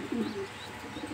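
A male Afghan grizzle racing homer pigeon gives a single soft, close coo that rises and falls once, with no talk.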